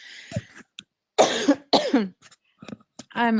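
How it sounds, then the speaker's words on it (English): A person in a webinar coughs and clears their throat in several short, close bursts with pauses between, ending in a harsher rasping cough. "I can feel a little coughing attack come on"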